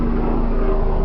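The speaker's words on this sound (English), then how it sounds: "I can hear a fucking helicopter and it's very annoying." Steady engine drone from a helicopter passing overhead, a constant low hum with a faint tonal whine, continuous and moderately loud throughout.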